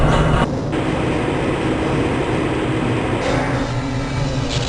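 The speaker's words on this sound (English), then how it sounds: "This train is inbound from the Area 8 topside dormitories to the Central Transit Hub in Area 9" A Black Mesa transit train runs in the video game Half-Life: Blue Shift, giving a loud, steady rumble and rattle that continues unbroken with no talk.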